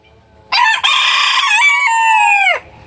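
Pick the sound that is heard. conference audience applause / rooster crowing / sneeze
rooster crowing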